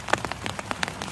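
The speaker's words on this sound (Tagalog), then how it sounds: "Maulan kasi dito." Rain falling outdoors, a steady patter of drops striking nearby surfaces with scattered sharper splats, fairly close and continuous, no voices.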